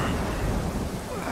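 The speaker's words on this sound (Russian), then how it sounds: "мало того, что ветер дует, дождь еще такой косой ровно в спину" Wind and slanting rain in the video game Uncharted 4, a dense, loud, unbroken roar of rain and gusting wind with a low rumble and no voices.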